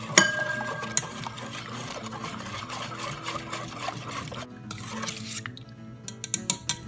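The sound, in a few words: whisking chicken broth and brown sugar for teriyaki sauce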